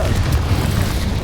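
A Confringo spell blast in the video game Hogwarts Legacy: a loud, continuous low rumbling boom with roaring, fiery texture sustained for about a second.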